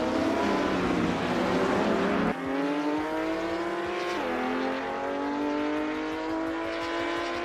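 Small 1964 Abarth 850 TC Corsa racing cars roar continuously at high revs, the engine note stepping up through gear changes, loud and steady with no talk.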